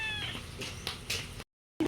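A cat meows a few times in a drawn-out, wavering way, close and fairly loud, then falls briefly silent before another short sound starts.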